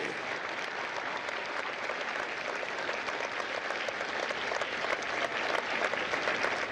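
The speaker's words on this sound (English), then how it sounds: "Ladies and gentlemen, a round of applause for their dedicated service to Corps and country." A large audience claps steadily and densely at a Marine Corps recruit graduation ceremony at MCRD San Diego, sustained applause filling the whole stretch without letting up.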